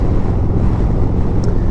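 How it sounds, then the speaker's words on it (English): Strong wind buffets a microphone outdoors, a dense, loud, steady low rumble with no pauses and no speech. "it's pretty windy today"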